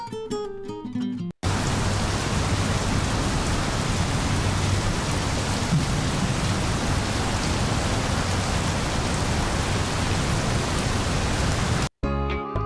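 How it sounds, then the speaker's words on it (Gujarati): Heavy morning rain seen from a gallery: a dense, loud, continuous hiss of falling rain with no voices, briefly cut by other sounds at the very start and end. "ખૂબ સરસ વરસાદ પડી રહ્યો છે સવારનો"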